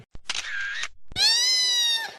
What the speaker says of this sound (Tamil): என்ன சவுண்ட் இது? பூனை சவுண்ட் மாதிரி இருக்கு.